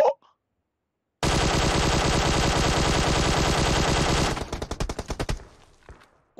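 Automatic weapon fire in the mobile game PUBG Mobile: a loud, dense sustained burst lasting about three seconds, followed by a string of separate rapid shots that fade out.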